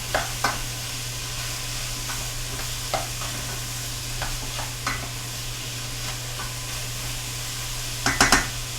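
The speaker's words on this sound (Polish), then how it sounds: "I dusimy około kilku minut, żeby cebulka ładnie się zeszkiła i jabłka również." Diced apples with skins on and onion stew and sizzle in a pan, a steady soft hiss under occasional stirring scrapes and clicks, with a brief cluster of louder clatters near the end.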